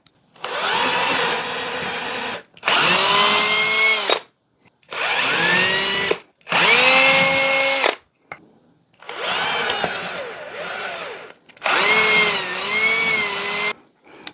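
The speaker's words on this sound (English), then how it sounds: "That way I don't drill into my table." A power drill whines loudly in six separate bursts, drilling into wood over a scrap piece, each lasting a second or two, with short silent pauses between them, pitch shifting as it bites.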